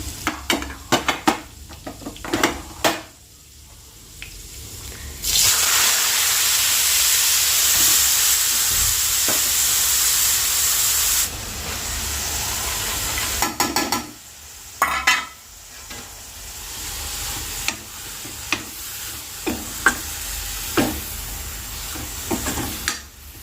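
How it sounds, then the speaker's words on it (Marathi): Spices are tempered in hot oil for a dill greens curry, bursting into a loud, steady sizzle that dies down to clinks and stirring in the pan before sizzling again briefly, close and with no talking. "मी त्याच मध्ये फोडणी देते"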